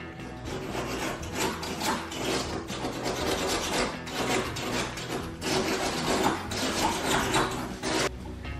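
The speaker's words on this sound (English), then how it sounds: "you have a grout saw that you can actually slide between" Continuous rough scraping and rasping, a grout saw worked back and forth between floor tiles in uneven strokes, close by.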